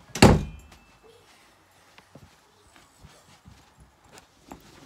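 A single solid thud of a door shutting nearby at the start, followed by quiet room noise and a few faint knocks and rustles.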